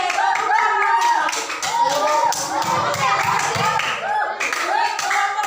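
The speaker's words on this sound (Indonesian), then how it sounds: "tepuk tangan" A classroom of student groups claps hands in a lively, continuous rattle while children's voices chatter and call out over it throughout.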